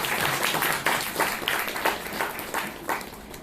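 Audience at a Hindi literary talk on an epic poem clapping for a guest, uneven bursts of applause with distinct claps rising and falling across a few seconds, moderately loud in a hall.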